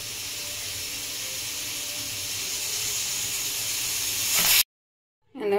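A pressure cooker holding chicken and vegetables for soup lets out a loud, steady hiss of steam that slowly builds in strength, then cuts off abruptly, followed by a brief sound after the silence.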